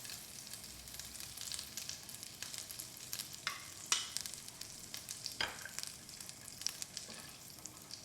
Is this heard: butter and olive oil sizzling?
yes